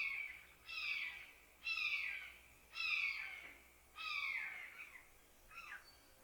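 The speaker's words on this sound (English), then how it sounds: "Hear all them hawks?" Hawks call from a swamp on a spring morning, giving five loud, drawn-out descending screams in a steady rhythm at moderate distance over quiet outdoor background.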